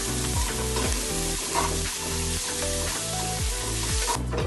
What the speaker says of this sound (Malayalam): ഇനി അതിലേക്ക് നമ്മൾ വേപ്പില, ഇഞ്ചി, വെളുത്തുള്ളി, പച്ചമുളക് ചതച്ചതാണ് കേട്ടോ. അതിനെ എടുത്തൊന്ന് വാട്ടിയെടുക്കുന്നത്.